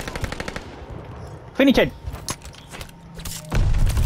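Shooting video game gunfire comes in quick rapid bursts at the start and again at the end, with a spoken word and some talk in between.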